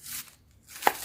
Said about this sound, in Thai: ก็จากนั้นก็มาหั่นหอม